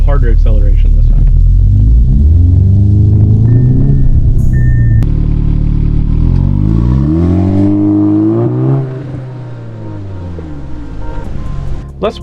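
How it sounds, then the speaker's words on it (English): A 2018 Audi S3 in sport mode accelerates hard, its engine note rising in loud sweeping pitch through the revs before easing off, heard close and continuous. "And then again in sport mode, but we'll do a harder acceleration this time."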